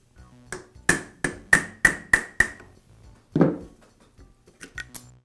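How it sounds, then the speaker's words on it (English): Sharp metallic taps of a hammer on a punch, driving the armature out of the bearing of a Makita angle drill: a quick run of about seven ringing strikes, then a duller knock and a few lighter taps. "I'll tap the armature out of the bearing using a punch and hammer"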